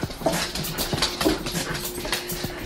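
A dog holding a bone whimpers in short, repeated high whines mixed with snuffly breaths and light movement, heard close up with no talk.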